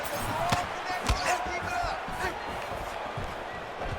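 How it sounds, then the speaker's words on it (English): Arena crowd noise from the UFC 5 video game during an Israel Adesanya vs Nassourdine Imavov bout, a steady murmur with swelling oohs and sharp impact thuds, sitting under a commentator's talk. "You hear this crowd just eating out of his hand, oohing and on every time he advances"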